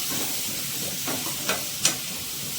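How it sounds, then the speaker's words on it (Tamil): Boiled banana stem, drumstick and brinjal are stir-fried and mixed in a pan, making a steady close sizzle and hiss broken by a few quick scrapes of the spatula. "அதெல்லாம் ஃப்ரை பண்ணிடுவோம் மிக்ஸ் பண்ணிடுவோம்"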